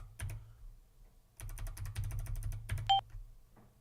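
An 8-bit DOE mechanical keyboard, N edition, is typed on nearby: a couple of lone clicks, then a fast, steady run of clacking keys, followed by a short electronic beep and one faint late tap.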